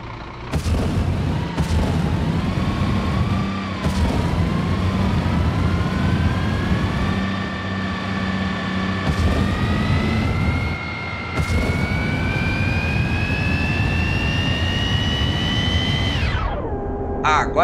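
A truck in the driving game BeamNG.Drive starts up and accelerates, its loud engine note rising steadily in pitch for a long stretch before dropping sharply at the end, with no talking.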